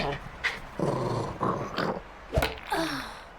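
A dog growls and snarls in short rough bursts in the video game Popup Dungeon, close and fairly loud, with combat effects around it.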